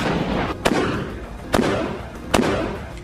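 A sniper rifle fired from a building during combat in Rafah: three sharp, loud cracks at roughly even intervals, ringing out over a steady rumbling background.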